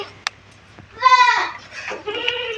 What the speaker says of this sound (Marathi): हे एक पिल्लू त्या शेळीचं आहे